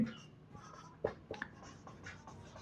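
Pen scratching numbers onto paper during a class-10 partnership-business maths sum, faint close strokes with a few brief taps, alone without talk.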